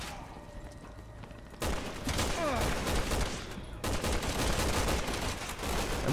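Video game gunfire in Resident Evil 6, starting quieter then erupting into loud, sustained bursts of shots with brief gaps, no one speaking over it.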